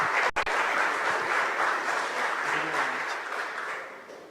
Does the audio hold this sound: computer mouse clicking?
no